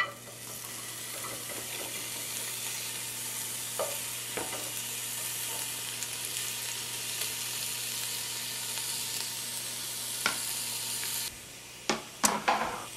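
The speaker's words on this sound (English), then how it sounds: "So what we're going to do is put these bones in and brown them in the pan." Meat and bones browning in a heavy skillet for a spaghetti and meatball sauce, a loud continuous sizzle and hiss throughout, with a few clinks of a utensil near the end.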